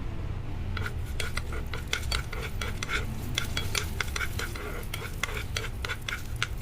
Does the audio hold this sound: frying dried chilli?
yes